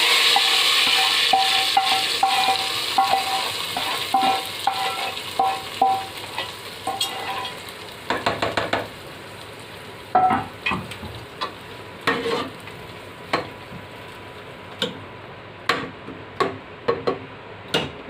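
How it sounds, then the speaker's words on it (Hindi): A hot tempering of red chillies and curry leaves hits whole masoor lentil daal with a loud, hissing sizzle that settles into scattered spoon clinks and stirring taps. "ये मेरा तड़का रेडी हो गया है, अब मैं इसको दाल में डाल रही हूँ।"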